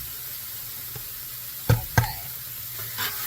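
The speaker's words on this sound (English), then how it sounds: "I'm going to actually stir my pasta for a second." A cast iron skillet of beef stroganoff sizzles quietly while a pot of pasta gets stirred, with a couple of sharp scraping clicks and a soft spoken word over the low background hiss.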